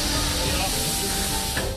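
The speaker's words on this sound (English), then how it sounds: "Puffing Billy is a local favourite steam train." Puffing Billy, a vintage steam train near Melbourne, gives off a steady, loud, broad hiss of steam that holds evenly for a moment before easing off.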